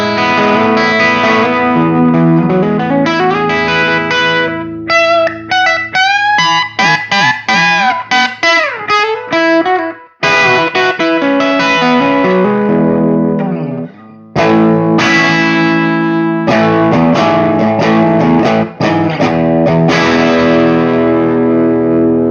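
Distorted electric guitar with 2022 Gibson Custombucker pickups in a Gibson Trad Pro V Mahogany Top, tone knob turned down for a darker, honky voice, playing loud chords and single-note runs with effects and reverb.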